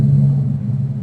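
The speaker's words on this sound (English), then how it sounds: "Yeah, that's a plane. That's a plane." Airplane flying over, a Payday 2 video game sound file: a brief, dense low rumbling drone, loud and steady, with no speech present.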